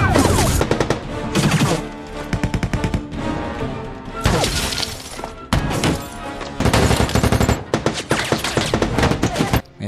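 Film-style gunfire erupts during a prison battle, loud rapid bursts of automatic fire and single shots crackling in dense volleys with brief gaps between them, continuing throughout.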